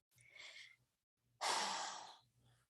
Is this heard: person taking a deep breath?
yes